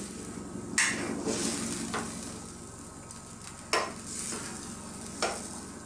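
Egg being stirred into sautéed chicken in a pan for ginisang upo, with scraping strokes over a steady low sizzle and three sharper utensil knocks spaced a couple of seconds apart.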